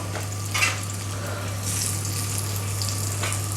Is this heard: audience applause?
no